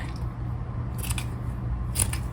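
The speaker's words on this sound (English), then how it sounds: "So I'm going to cut off these strings right here because they're going to be in my way." Scissors snip loose threads off quilted scrap fabric, a few quick, crisp cuts in two short bursts, close and clear over a quiet background.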